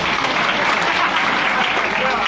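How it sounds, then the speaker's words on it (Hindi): An audience at a motivational success speech claps loudly and continuously, a thick, steady roar of hands with some voices mixed in. "बजाओ तालियां"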